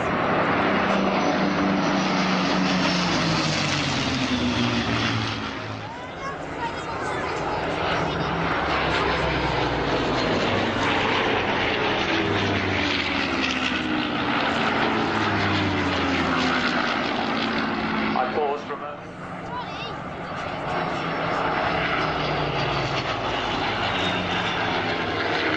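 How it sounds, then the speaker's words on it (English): A Hawker Hurricane propeller warplane flies in at an airshow, a loud continuous engine drone with shifting pitch that swells and fades slightly over about 25 seconds, while a commentator talks over it on a public address. "The other Hurricane coming in now."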